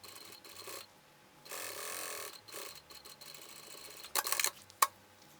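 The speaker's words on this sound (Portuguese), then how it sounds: "vou fazer uma costura aqui com o pé de máquina prendendo, depois vou virar e rebater" A sewing machine runs close by in a few short bursts, stitching fabric for a cloth makeup bag with the presser foot holding it down, with brief pauses and handling noise between runs and a sharp clack near the end.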